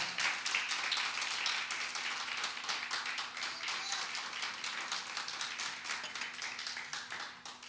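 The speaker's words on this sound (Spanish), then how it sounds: "Den un aplauso a Dios por esta palabra, por favor." Steady, dense clapping from a church congregation, continuing evenly throughout at a moderate distance with a faint hum beneath.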